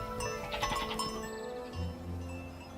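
Goat bleating at close range in a mountain village in snow leopard country, a few wavering calls over faint background clatter, with a light jingle like a bell.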